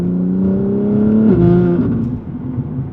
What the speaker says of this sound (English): I just heard the exhaust for the first time